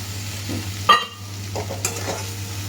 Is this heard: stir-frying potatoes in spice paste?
yes